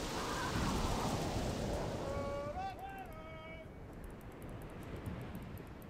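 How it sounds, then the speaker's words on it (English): Stormy weather at sea in the video game Pirates, a loud broad wash of rain and wind-like rushing noise that eases midway as brief melodic game tones chime over it. "A storm? We'll sail through it."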